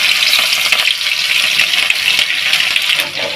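Cumin, finely chopped green chilies and grated ginger sizzle loudly in hot oil, a steady bright crackling hiss with occasional pops and a stirring scrape, close up and continuous with no talk.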